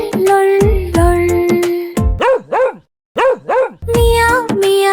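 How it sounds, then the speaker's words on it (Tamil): Dog barking in a children's Tamil animal-sounds song, heard as loud, repeated barks in quick pairs over a sustained musical tone, with a brief silence in the middle. "நாய் எப்படி குரைத்தது? லொள் லொள் லொள்."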